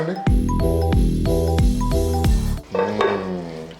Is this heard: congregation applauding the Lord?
no